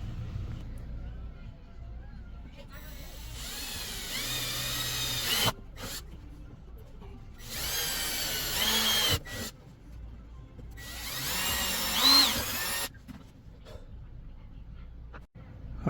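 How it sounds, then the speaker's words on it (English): A power drill with a 3/16 bit drills holes during an RV upgrade, whirring in three separate bursts of a few seconds each with quiet pauses between. "you can see I used a 3/16 drill"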